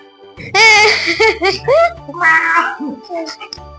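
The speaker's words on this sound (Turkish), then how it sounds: "Kedi kedi." A few drawn-out meows sound up close in quick succession, with pitch rising and falling, followed by softer squeaky calls.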